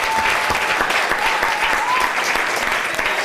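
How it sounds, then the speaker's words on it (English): Steady applause from an audience at a university chemical engineering show's closing, continuous dense clapping at even strength throughout with a faint tone running under it. "Another round of applause for everybody."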